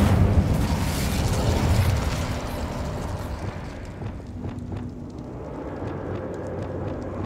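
Incendio fire spell cast in Hogwarts Legacy: a loud rumbling burst of flame with a low boom at the start, fading into a steady crackling roar with faint game ambience behind it.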